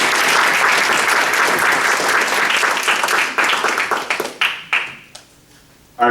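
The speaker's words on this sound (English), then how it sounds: "Everybody give Quentin a round of applause." Audience applause at a leadership talk, loud dense clapping that thins into scattered individual claps and fades out, with a voice starting right at the end.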